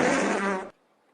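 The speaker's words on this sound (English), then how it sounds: "Mine had a lot more bubbles in the fart." A recorded bubbly fart plays loud and close, a wet, rippling burst of a little over half a second that cuts off sharply into silence.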